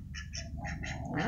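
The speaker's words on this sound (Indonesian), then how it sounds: "Dah ada bebek, takut dia sama ini dah." A duck quacks several times in quick, choppy bursts, close and fairly loud over a low background rumble.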